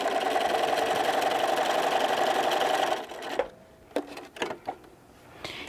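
A sewing machine stitches fabric for a microwave popcorn bag in a fast, steady mechanical whir for about three seconds, then stops and leaves a few soft clicks and handling knocks.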